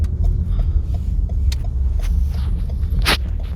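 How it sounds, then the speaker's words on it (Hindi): A car being parked outdoors, a low engine rumble with crunching tyre and scraping noises and a sharp clunk near the end, close by. "गाड़ी लगा रहे हैं।"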